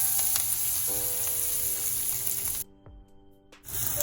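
Onions frying with salt in a pan give a bright, steady sizzle up close that drops out abruptly for about a second before resuming, with no talking.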